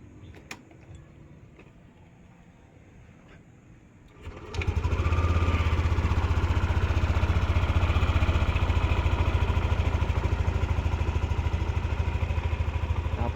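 A Yamaha NMAX scooter in a repair shop fires up after a brief crank, then settles into a loud, steady idle that runs on evenly and close by, with no talking.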